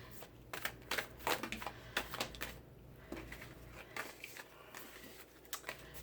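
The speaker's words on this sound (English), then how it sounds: "So I'm just shuffling these. We're just trying to get these all shuffled." Tarot deck being shuffled by hand, a run of soft crisp card riffles and clicks coming in uneven bursts, close and quiet with no talking.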